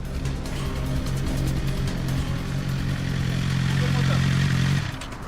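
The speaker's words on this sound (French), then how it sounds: "une moto vient d'être flashée à une vitesse folle" A motorcycle pulls up at a gendarme checkpoint after a highway speed-camera flash, its engine rumbling steadily and rising slightly before cutting off near the end, with voices faintly in the background.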